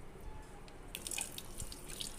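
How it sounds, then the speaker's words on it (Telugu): Milk trickles and splashes into a bowl of rice flour batter mixed with eggs and cardamom powder, a soft, close, continuous pour with faint drips and no voices. "పాలు కూడా పోస్తున్నామండి"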